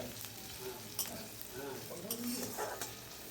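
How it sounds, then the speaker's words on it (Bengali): Cumin, green chili and onion fry in a pan with a steady, soft sizzle, broken by a few light scrapes and clinks of a stirring utensil. "মধ্যে জিরে আর কাঁচা লঙ্কা পেঁয়াজ ভেজে নিচ্ছি"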